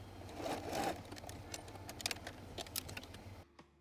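A home sewing machine stitches bodice shell and lining pieces, a quiet low hum under light tapping and clicking that cuts off near the end.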